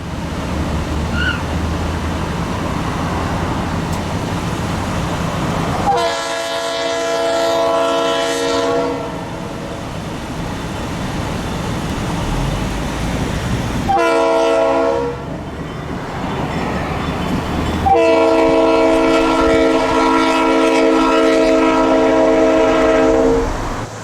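A trio of classic Shenandoah Valley Railroad locomotives rolling past, their horns blaring in three loud, sustained blasts over a constant rumble of engines and wheels, heard close and outdoors.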